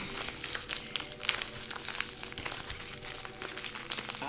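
Tape being picked at and peeled from a package of scented wax melts, a dense run of crinkling, rustling packaging and short tearing scratches, close and steady with no talk.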